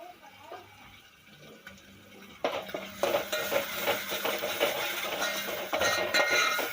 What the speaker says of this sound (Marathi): परतून घ्यायचं चांगलं. तर चांगलं परतून घ्यायचं आहे.